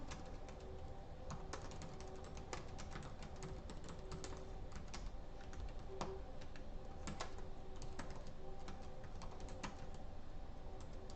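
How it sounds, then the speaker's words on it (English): Soft, quick keystrokes on a computer keyboard tap away in an art studio, faint and steady beneath a constant background hum, with no one speaking. "I might have to just type it really quick"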